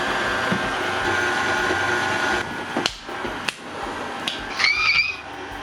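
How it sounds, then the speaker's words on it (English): Electric mixer beating cupcake batter on medium speed, a steady whirring motor drone for a couple of seconds that then stops, followed by a few knocks and a short squeaky scrape. "We're gonna mix this on medium speed for 2 minutes."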